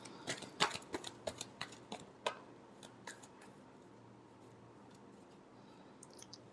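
Tarot cards are shuffled in a quick run of crisp riffling clicks and snaps that taper off into near quiet, soft and close.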